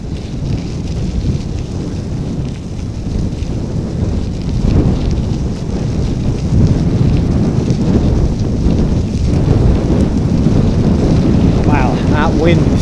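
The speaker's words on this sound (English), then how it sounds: "That wind certainly comes through this tunnel." Strong wind blowing through a tunnel on the Hoover Dam Historic Rail Trail in Boulder City, Nevada, a loud continuous roar and buffeting against the microphone that swells slightly midway.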